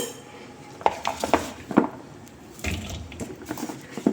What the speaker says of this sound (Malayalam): ഇനി ഇതിലേക്ക് ഞാൻ കുറച്ച് മുരിങ്ങക്കായ കൂടെ ഇട്ട് കൊടുക്കുകയാണ്